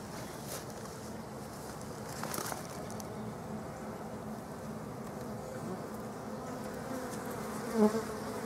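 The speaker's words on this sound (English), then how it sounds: "You can hear them buzzing." Disturbed honeybees buzz around a hive being moved and fastened down by a beekeeper, a steady close droning hum that carries on throughout with faint clicks and a brief knock near the end.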